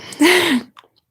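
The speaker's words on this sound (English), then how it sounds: "I need a yawn." A single drawn-out yawn, rising then falling in a breathy voiced tone, followed by a soft brief exhale and quiet.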